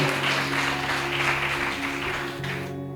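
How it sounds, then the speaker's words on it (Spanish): A church congregation claps in praise, producing a dense, continuous wash of applause with a sustained musical tone underneath, fading slightly toward the end. "Dale fuertes palmas de alabanza a Jesús."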